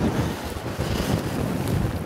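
Strong wind buffets the microphone while fishing for pike on the Volga, a continuous low rumbling roar, gusting unevenly and loud throughout.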